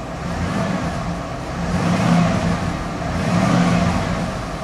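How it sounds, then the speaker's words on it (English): A 1995 Ford F-250 4x4 engine revving, heard as a deep, rumbling idle that swells twice into rising revs and then settles back, close and fairly loud, with no talking. "it doesn't fluctuate as I rev the engine up as a normal gauge would"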